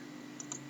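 Two quick, sharp mouse clicks close together while copying and pasting VB.NET code, heard over a steady low hum with no talking.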